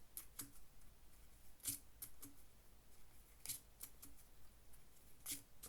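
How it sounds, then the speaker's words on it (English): Playing cards are shuffled at a poker game, giving a run of crisp, quiet snaps and flicks at irregular intervals, some clustered in pairs, close by with no talking over them. "I shuffle"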